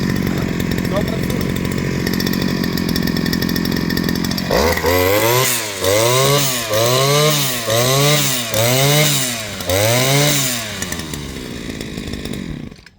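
A petrol brush cutter is pull-started after a stretch of background noise, then its small two-stroke engine runs loud and close with a repeating surge-and-drop rhythm from revving, cutting out near the end.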